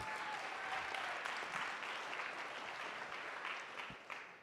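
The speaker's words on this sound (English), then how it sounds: "Let's give them a round of applause." A TEDx event audience at Cathedral Catholic claps in a steady round of applause, fairly quiet and slightly distant, a dense even patter of many hands that thins toward the close.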